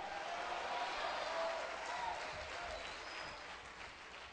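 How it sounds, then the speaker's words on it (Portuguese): A church congregation applauds together in worship, a dense, even wash of clapping that holds steady and then thins slightly toward the end, heard at a distance in a reverberant hall. "aplauda ao Senhor, se manifeste, dê glória a Deus e diga aleluia"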